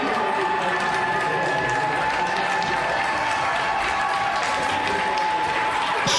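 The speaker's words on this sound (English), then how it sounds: "They applaud." Members of Parliament in the Canadian House of Commons applaud in a continuous, dense wash of clapping with a faint crowd murmur, steady and evenly loud from start to finish.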